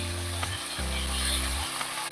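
Carrots, peas and potato pieces fry in a pan for veg biryani, giving a steady close sizzle over a low hum throughout, with no talk.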